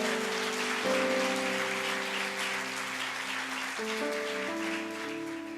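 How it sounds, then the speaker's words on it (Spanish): A church congregation applauds during a Spanish-language sermon, a dense, steady wash of clapping that fills the whole stretch beneath sustained keyboard chords. "¿Cuántos le dan un aplauso al Señor por eso?"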